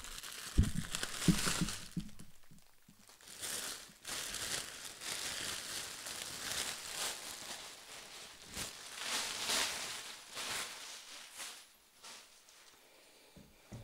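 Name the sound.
plastic bag crinkling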